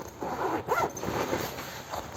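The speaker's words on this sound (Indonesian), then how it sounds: "Tas dengan 2 resleting." A zipper on a badminton racket bag is pulled open in one continuous, close, rasping draw, heard on its own without speech.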